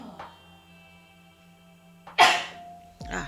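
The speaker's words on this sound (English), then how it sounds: "I'm about to sneeze." A single loud sneeze bursts out after a quiet stretch, with a brief intake before it and a softer vocal sound right after, heard alone over faint background hum.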